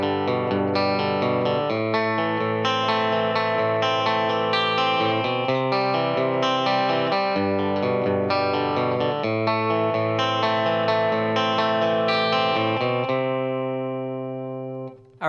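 Electric guitar with effects picks an arpeggiated part, a steady stream of ringing broken chords played alone and loud, ending on a sustained chord that fades out.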